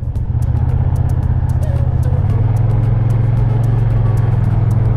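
A Kymco AK550 motor scooter cruising through Bouquet Canyon, its engine a steady loud drone that shifts pitch slightly partway through, with constant wind rush and no talking.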